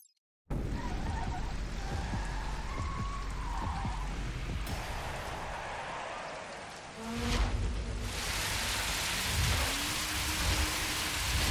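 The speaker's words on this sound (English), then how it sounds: "Oh, it's raining." Steady rain hisses down throughout a race in The Crew: Wild Run, loud and continuous, mixed with engine roar, skidding tires and shifting vehicle noise, with a surge of heavier downpour near the end.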